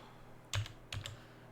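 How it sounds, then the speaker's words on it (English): Typing on a computer keyboard comes as two quick clusters of crisp keystrokes, close and fairly quiet against a low background hum. "I am not typing well today."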